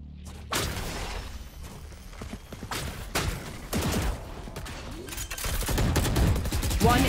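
Rapid bursts of gunfire from the competitive shooter Valorant during a collegiate esports match, with repeated sharp volleys and sustained automatic fire stacking up, loud and close throughout with game effects layered in.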